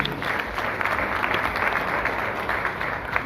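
Audience applause at a book launch and fundraising auction, a steady, dense wash of clapping from a sizeable crowd holding even in volume throughout, with no voices over it.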